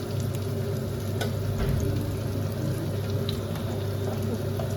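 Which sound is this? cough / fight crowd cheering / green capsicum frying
green capsicum frying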